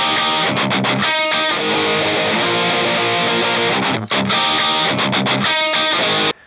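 Distorted heavy rock electric guitar with a strongly boosted EQ band giving a sharp whistling edge, loud sustained chords with two brief stops, playing alone.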